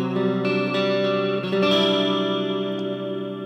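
Electric guitar played through a Strymon reverb pedal with modulation, sustained chords ringing out with a shimmering, wavering wash and long decay, a couple of new strums layered in, no talk.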